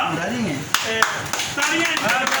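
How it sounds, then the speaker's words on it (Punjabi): Guests at a lively party clap in scattered bursts, with a couple of sharp, close slaps standing out over steady overlapping talk. "ਤਾਲੀਆਂ"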